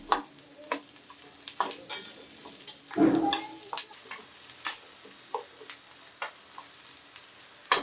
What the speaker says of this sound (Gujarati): ડુંગળીને બે મિનિટ જેવું હલાવતા જઈ સાંતળી લઈશું આપણે ડુંગળીને ટ્રાન્સપરન્ટ થાય ને ત્યાં સુધી સાંતળવાની છે